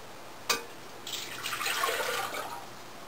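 Warm water pours in a soft, steady trickle for bread dough, starting after a brief knock and continuing quietly with no talk.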